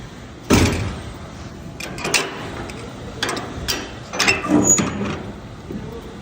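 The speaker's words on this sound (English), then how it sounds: "we are gonna close the door." The door of a rug-washing centrifuge is shut: a sharp thud, then several ratcheting, clanking latch and mechanism noises in bursts, close by with no talk.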